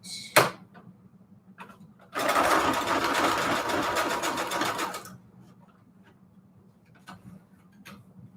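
A sewing machine stitches a junk journal embellishment, running loud and steady for about three seconds between a few scattered clicks and taps.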